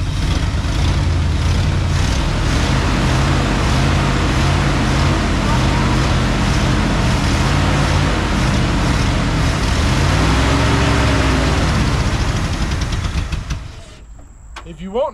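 A 1987 Ford F150 engine, converted to a carburetor with an HEI distributor and missing its spark advance hookup, idles loud and close with a constant rough rumble before cutting off near the end.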